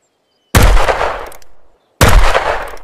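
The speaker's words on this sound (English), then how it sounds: "Oh my goodness, that took a lot of shots. Was that a Glock?" Glock pistol shots ring out in the game Ghost of Tabor: two loud, close, sharp reports, each followed by a long decaying echo, with silence before and between them.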